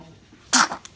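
A baby sneezes once, a short sharp burst up close, followed by a tiny faint after-sound.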